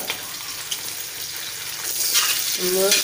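Ginger, green chillies and curry leaves sizzle in hot oil for a duck curry with tapioca. The close, constant frying hiss swells louder near the end as fresh ingredients hit the pan.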